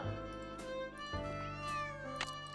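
In the Nancy Drew game Secret of the Old Clock, the cat Yuri lets out a few close, wavering meows in quick succession, loud and alone without speech.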